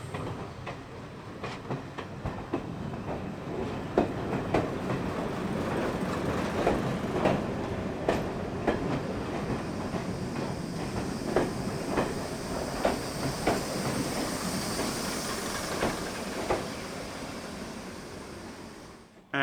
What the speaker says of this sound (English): That's the DMU, by the way, which I had a nice little ride on.